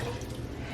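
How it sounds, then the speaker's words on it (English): Half a gallon of cold water pours steadily into a cooking pot, a continuous close rushing splash with no break, in a kitchen. "I'm gonna pour half a gallon of water"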